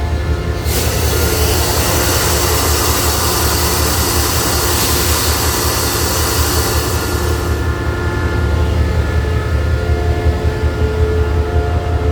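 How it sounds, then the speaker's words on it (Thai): A diesel locomotive engine revs steadily at a high idle to build air pressure, loud and close, with a continuous deep rumble and a hissing rush throughout. "ก็กำลังเร่งเครื่องทำลมอยู่"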